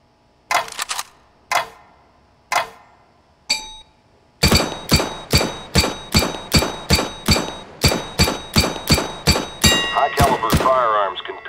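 CS:GO gunfire at a target, starting with a few single spaced shots and then turning into a rapid run of evenly timed sharp reports in short bursts, loud and close, with weapon handling clicks near the end.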